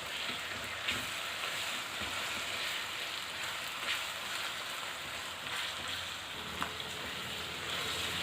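Chopped chicken breast mince cooks in oil in a pan, giving a faint, steady, even sizzle with a few soft pops throughout and no voices.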